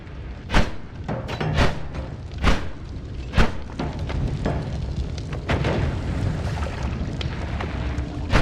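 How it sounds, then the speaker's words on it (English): Off-screen explosions in the video game Noita: a series of deep booming thuds, about six or seven spread irregularly over several seconds, over a steady rumbling background. "I don't like off-screen explosions."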